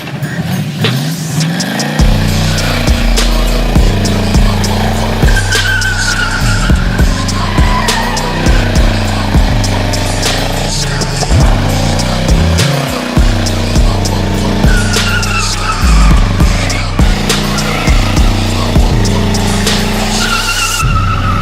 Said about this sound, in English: so it could do a burnout on a dry road in second gear